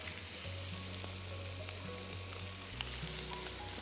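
Dried fish thokku sautés with curry leaves and coriander, a dense steady sizzle of frying held throughout, close and even, with a low background hum underneath.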